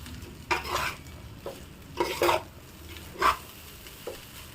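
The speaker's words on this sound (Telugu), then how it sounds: "ఇప్పుడు మొత్తం ఒకసారి మొత్తం కలిసేలా కలుపుకోవాలండి." A spatula stirs chicken fried rice with pepper and soy sauce in a pan, making a handful of close scraping strokes over a faint, steady sizzle, with no talking.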